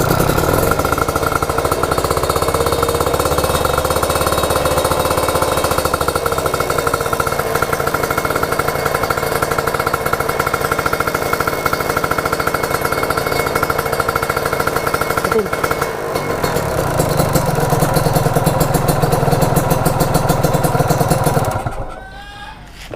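The engine of a Suzuki RM 85 or Honda Kharisma motorcycle runs loud and close during an ignition coil test, a steady buzzing drone with shifts in pitch as it revs, before cutting out near the end.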